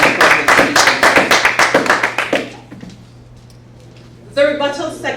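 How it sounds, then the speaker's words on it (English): Sharp, rhythmic clapping at a CUB 2025 debate round fills the first half, then fades out to near quiet before a voice starts speaking. "let us give both our teams a round of applause for their efforts this evening on the public speaking"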